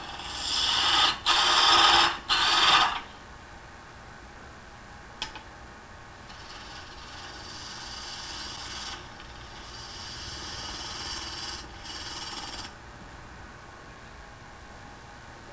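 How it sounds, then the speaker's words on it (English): Woodturning gouge with its bevel rubbing on a spinning piece of wood on a lathe while shaping a two-part vase, loud scraping bursts near the start, then longer, softer rasping cuts over a steady machine hum. "Bevel rubbing."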